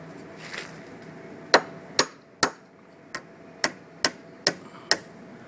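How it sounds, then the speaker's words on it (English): Nails hammered into a wooden roof batten while fixing wire across thatch panels, about eight sharp separate blows, close and loud, spaced roughly half a second apart over a quiet background. "Hammer in the nails"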